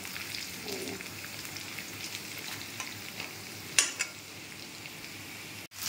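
Garlic sizzles steadily in hot oil in a pan, a soft continuous crackle with a couple of sharper stirring clicks near the end; no one speaks.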